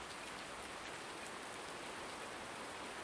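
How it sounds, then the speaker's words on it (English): Steady, soft video game rain hiss in Farming Simulator 19 with a dense patter of drops, even and unbroken throughout, no voices. "problem is we've got rain"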